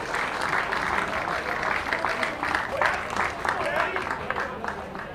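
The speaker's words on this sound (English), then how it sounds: "a spectacular catch by the speedy center fielder from Redlands and getting a well-deserved round of applause" A baseball crowd at a grand final game applauds a spectacular catch by a center fielder, with steady, moderately loud clapping throughout and voices talking over it.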